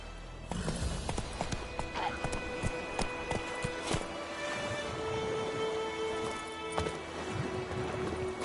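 Hooves of the horse Roach in a video game clip-clop at a steady walking pace, close and clear, with occasional snorts and a brief whinny over a soft ambient bed.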